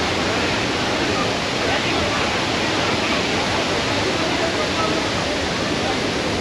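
A loud, continuous roar of rushing water from Athirappilly waterfall in Kerala, steady and dense with no breaks.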